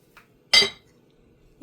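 Lid clanking down onto a pot of shrimp curry cooking with ground coconut, one sharp metallic clink followed by a faint tap before and a soft knock after.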